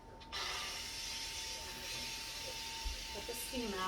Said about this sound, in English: let the steam out